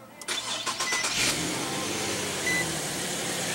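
A 3.7 liter V6 engine in a 2015 Infiniti QX70 cranks briefly via push-button start and catches, then settles into a steady, smooth idle hum, close by and fairly loud.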